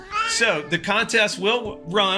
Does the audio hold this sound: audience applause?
no